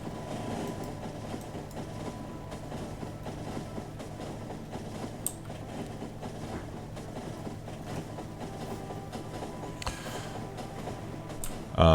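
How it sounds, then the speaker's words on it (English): A train runs on rails in the video game Factorio, giving a steady rumbling roll with faint rhythmic clatter that carries on throughout. "I'll send the train over to the station called South while I'm doing all that"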